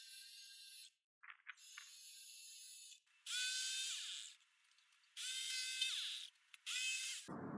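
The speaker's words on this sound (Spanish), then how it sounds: "Esta es una broca de 3 octavos de pulgada. Vamos a agujerar las 4 esquinas." An electric drill with a 3/8 inch bit bores holes into the corners of a one-piece wooden tray. It runs in several separate high-pitched whirring bursts, each a second or so long, with short pauses between them.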